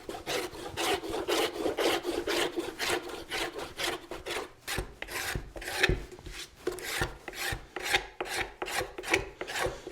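A blade shaves saddle leather like a spoke shave during Western saddle construction, giving a rhythmic series of close, raspy scraping strokes repeated steadily.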